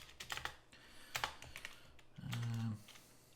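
Keys clacking on a computer keyboard in bursts of quick taps, close and fairly quiet, followed by a brief low hum near the end.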